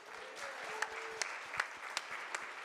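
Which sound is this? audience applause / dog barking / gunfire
audience applause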